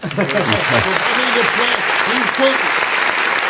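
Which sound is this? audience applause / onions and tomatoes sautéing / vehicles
audience applause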